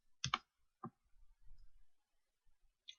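Several sharp, quiet mouse clicks sound on a computer while browsing a web page, spaced irregularly with near silence between them.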